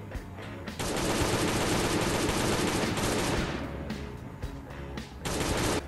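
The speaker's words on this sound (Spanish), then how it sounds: "Vamos a dispararle desde aquí." Sustained rapid automatic gunfire comes from shooting in the video game Last Day on Earth: Survival. It is loud and continuous for several seconds, breaks briefly, then resumes in another burst.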